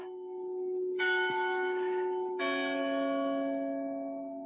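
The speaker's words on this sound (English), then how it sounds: "you hear the carillon." Carillon bells at the Loreta in Prague ring out in two clear, resonant strikes whose long tones hang and slowly fade, heard from a short distance with no voices.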